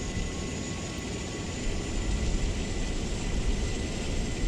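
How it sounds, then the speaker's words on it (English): An Airbus auxiliary power unit spins up in Microsoft Flight Simulator, a steady broadband turbine roar with a faint high whine holding constant throughout, fairly loud and alone with no talking. "And then APU should be coming alive."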